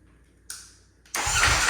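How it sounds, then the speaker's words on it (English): A salvaged Ducati Panigale V4 motorcycle makes a click, then a short fading whir, and then bursts into a loud, sustained cranking roar up close on its first start. "I literally did not expect that thing to start cranking."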